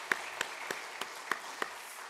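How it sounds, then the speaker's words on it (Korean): Slow, sparse handclaps from a church congregation at a Sunday service, six evenly spaced claps over a quiet room. "우리 한번 박수 한번 부탁합니다."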